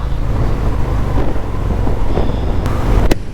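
A Harley-Davidson Softail motorcycle rumbles low and steady while accelerating on a night ride, its engine tone partly buried under loud, constant wind rush, with a sharp click near the end.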